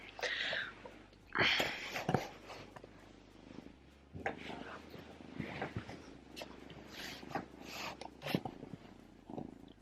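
A kitten purrs and fusses at Christmas, soft close purring and small cat sounds mixed with quiet whispery human voices talking nearby.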